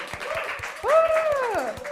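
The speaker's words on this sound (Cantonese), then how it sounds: "俾啲掌聲" A small audience at a public speaking class claps in an even rhythm, the light claps running beneath a speaking voice.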